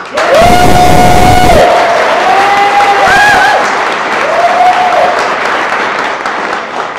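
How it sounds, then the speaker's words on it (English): A crowd breaks into loud, sustained applause and cheering with whistles, gradually thinning out toward the end. "Round of applause for them, please."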